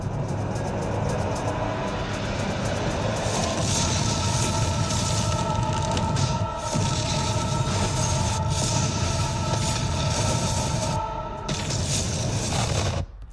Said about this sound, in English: Here comes the shockwave, traveling faster than the speed of sound.